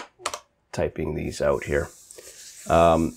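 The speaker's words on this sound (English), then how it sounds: "Okay, let's start typing" Quick keyboard typing as a software developer enters letters to crack a number-letter code, soft clicks mixed in and partly masked by someone talking over them.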